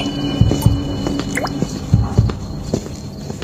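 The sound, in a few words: water dripping inside a fort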